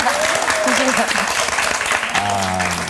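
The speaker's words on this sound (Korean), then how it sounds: "와, 박수" An audience claps during a Korean church talk show testimony with comedian Kim Ji Sun, a short burst of applause mixed with voices and laughter.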